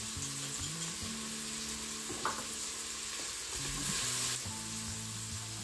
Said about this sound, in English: going to fry up nicely, and we just want to wait for them to be translucent